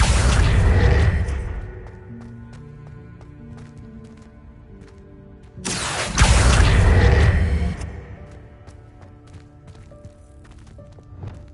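Two swelling magical bursts, each a broadband whoosh with a low boom and ringing tonal tail, from the Accio spell in the video game Hogwarts Legacy, loud and close with no talk.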